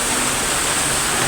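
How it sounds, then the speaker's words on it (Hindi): Heavy monsoon-style rain pours down in Karachi, a dense, constant roar of falling water with no break, loud and close. "फुल लेवल की बारिश हो रही है आज"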